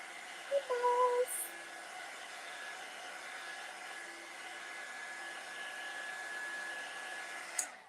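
A hair dryer blows steadily and close to dry a handmade card after rub-on transfers, holding an even whooshing hum for several seconds after a brief louder start, with a small click near the end.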